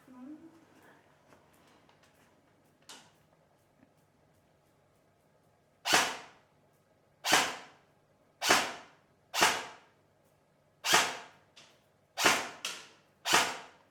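Gunshots from target shooting practice on a range: eight sharp, fairly loud reports at an uneven pace, with quiet gaps between them and little else audible.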